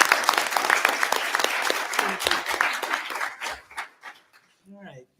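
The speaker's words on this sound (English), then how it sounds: "let's give her a round of applause" A school board meeting audience applauds a volunteer with a sustained round of clapping that tapers off near the end, followed by a brief voice.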